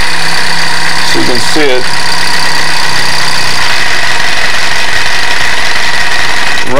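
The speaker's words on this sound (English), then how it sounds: "You can hear the exhaust beat distinctly." Small-scale live steam engine driving a large spur gear, its exhaust beat chuffing in a steady rhythm that turns rougher as the engine slows, loud and close with a person speaking briefly over it.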